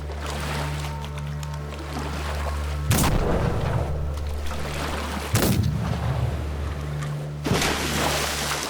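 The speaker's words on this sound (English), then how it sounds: "What were those gunshots?" Three sharp gunshot blasts ring out at intervals over a low droning ship and sea background as boats close in on a Mediterranean vessel, each report loud and booming with a short decay.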